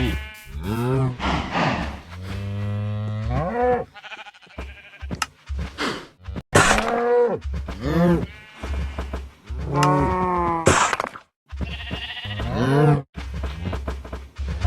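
Cows in a video-game farm pen mooing repeatedly, a string of separate drawn-out moos and bleats with short silent gaps between them, close and clear.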